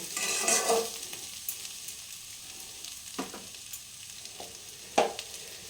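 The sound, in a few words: sabudana frying and being stirred in a pan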